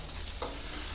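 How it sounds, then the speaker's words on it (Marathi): Masala for a homestyle egg curry fries and gets stirred in oil, a steady close sizzle filling the moment with one brief scrape of the spoon partway through. "मसाला तेल सुटेपर्यंत भाजायचा"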